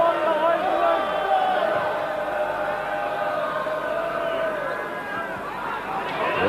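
A large crowd roars and chants at a 1988-89 First Division football match between Millwall and Norwich City at Millwall's home ground, a loud sustained swell of many voices with a commentator speaking over it.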